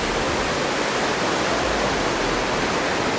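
Steady rushing of fresh water, a waterfall or stream, at a scenic outdoor viewpoint, heard as continuous broadband noise with no talk over it.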